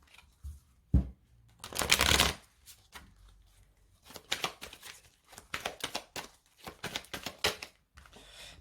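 Osho Zen Tarot cards being shuffled by hand, close and crisp, with a broad riffling burst near the start followed by a long run of quick rhythmic flicks and snaps, no voice over it.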